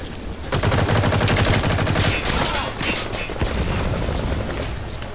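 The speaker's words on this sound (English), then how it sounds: "Some dude was shooting at me through the fence." Rapid automatic gunfire in the online shooter Metal Gear Online, a dense loud burst of overlapping shots with booming impacts, followed by a lighter stream of continued firing.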